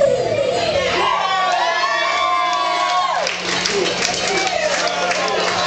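A party crowd chants and cheers in call-and-response with a voice leading them, rising and falling with loud overlapping shouts and whoops that stay close and continuous throughout.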